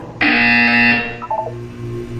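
An electronic buzzer from the video game Portal 2 blares loud and close for about a second, then gives way to a short falling series of tones over a low hum.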